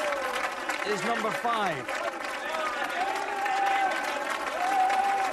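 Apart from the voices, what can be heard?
crowd applause at a strongman event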